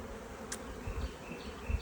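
Honey bees buzz steadily around a hive during a swarm transfer from a nuc to a ten-frame box, a close, continuous hum with a few soft bumps.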